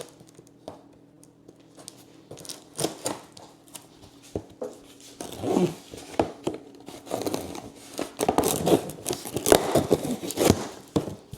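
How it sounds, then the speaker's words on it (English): Cardboard box holding a set of LASFIT car floor liners being torn open by hand, with a series of close, sharp ripping and crinkling bursts growing denser toward the end, quiet between pulls. "So let's tear into this box and see what we're working with."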